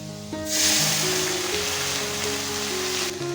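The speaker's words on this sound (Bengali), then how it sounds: "এবার এর মধ্যে দিয়ে দেব বাটা মশলা।" Ground spice paste hitting hot oil with fried potatoes in a kadai, a sudden loud hissing sizzle that holds steadily for about two and a half seconds before cutting off, over faint background music.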